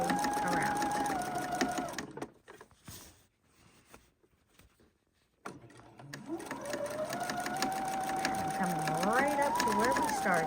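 A home sewing machine stitches steadily around the edge of a cloth apron, a close, continuous whirring run that pauses for a few seconds of near silence before resuming at a steady pace.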